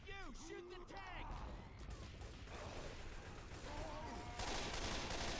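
Dense rapid gunfire aimed at the Tank in the video game Left 4 Dead 2, a sustained fusillade of shots under excited voices and in-game noise, moderately loud throughout.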